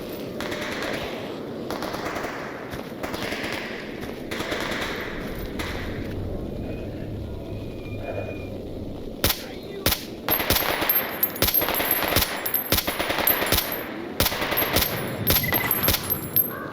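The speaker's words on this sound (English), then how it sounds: "We really being shot at from that direction now." Rapid bursts of automatic gunfire crackle through a firefight in Stalker Anthology, fairly distant and steady at first, then sharper, louder shots and clustered volleys close by in the second half.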